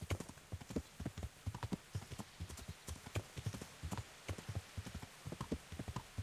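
Horse hooves clip-clop steadily on the ground in the medieval game Kingdom Come: Deliverance, a brisk, even rhythm of close, crisp hoofbeats with no voices.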